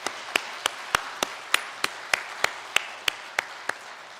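Congregation at a Sunday church service clapping for the choir, heard as sharp, close, evenly spaced claps in a steady rhythm of about three per second.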